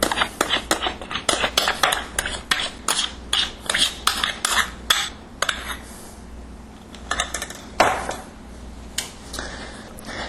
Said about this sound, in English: Now I start off with the dough whisk until it gets too stiff to work with the dough whisk